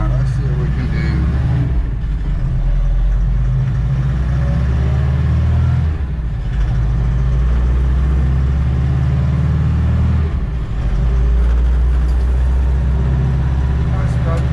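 2024 Mahindra Roxor All-Weather Cab driving in third gear at about 17 mph, a steady loud engine and road drone inside the cab, with brief dips as the throttle eases, while someone talks over it.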